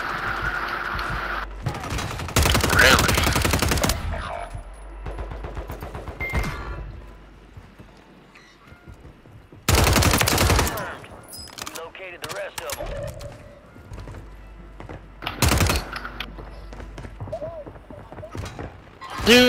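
Automatic gunfire in a Rebirth Island battle royale match, with several loud rapid-fire bursts separated by quieter stretches of game sounds and players chatting over voice chat.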